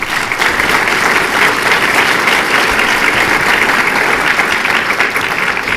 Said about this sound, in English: I want to urge you to give your applause a rest for a while